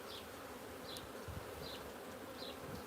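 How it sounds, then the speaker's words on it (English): Bees hum and buzz around an open queen-rearing cell builder hive, a faint, steady droning swarm with occasional higher passes of individual bees close by. "Bees everywhere."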